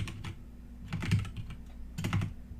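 Computer keyboard typing comes in close, quick bursts of clicky keystrokes with short pauses between them, over a quiet low hum.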